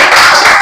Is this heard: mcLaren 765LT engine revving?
no